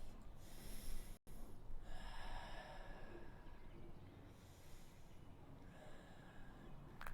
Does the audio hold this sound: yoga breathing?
yes